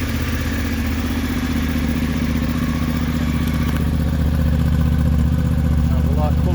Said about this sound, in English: And now for the official startup of my brand new bike.